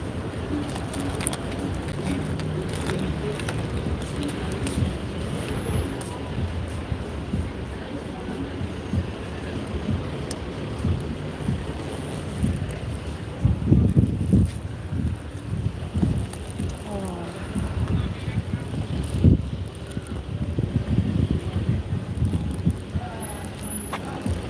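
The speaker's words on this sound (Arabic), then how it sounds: "الريح بارد" Cold wind blows steadily into the microphone outdoors, a constant rough rumble that swells in gusts partway through, with no other clear sound above it.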